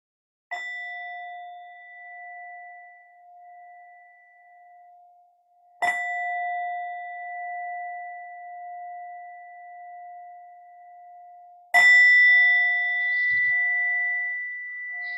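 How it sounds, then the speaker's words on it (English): A meditation bell is struck three times at roughly six-second intervals, each strike a clear ringing tone that lingers and slowly fades in near silence, the last strike slightly louder. "In a moment, you'll hear the sound of the bell."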